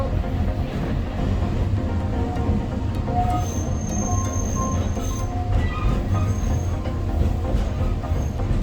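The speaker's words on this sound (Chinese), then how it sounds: "火车蜿蜒由山腰而过" An Alishan Forest Railway train winds along a mountainside between Liyuanliao and Jiaoliping, with a continuous low rumble, wheel clatter and faint, brief metallic squeals heard from inside.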